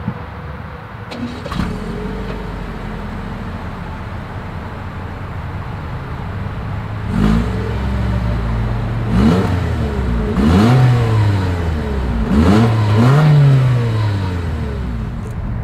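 A 2023 Toyota Corolla Cross engine revs several times up close, each throaty rise through the exhaust dropping back to a steady idle.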